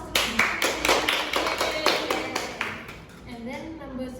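Schoolchildren in a classroom clapping for a classmate after a lesson on a story about an elephant, a quick run of sharp claps that fades out as a voice begins speaking.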